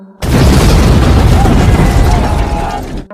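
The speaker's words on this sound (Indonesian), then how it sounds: "Dan seketika bom pun meledak." A sudden, loud bomb explosion bursts in and roars on for nearly three seconds before cutting off abruptly, in a film.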